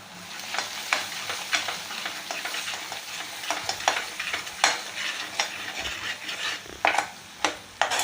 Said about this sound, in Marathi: आपल्याला छान याला परतवून घ्यायचं आहे